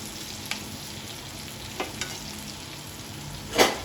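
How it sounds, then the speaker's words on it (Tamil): Masala-coated fish fries on a tawa, giving a steady close sizzle with a few light taps, and a sharper spatula scrape near the end. "மசாலா நல்லா உதிராம சூப்பராக மீன் வந்து ஃப்ரை ஆயிடுச்சு ஒரு சைடு"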